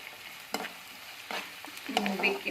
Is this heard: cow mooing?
no